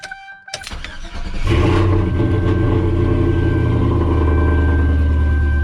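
A large cammed Chevrolet Silverado truck engine, with a blown engine, cranks and catches, then settles into a loud, steady rumbling idle close by.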